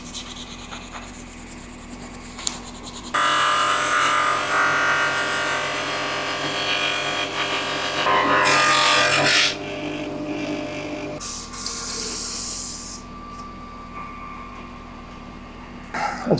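Surface rust is buffed off an old metal tool with a steady, abrasive rubbing and whirring that starts abruptly, swells louder midway, then eases back to a fainter scrape before fading, with no voices.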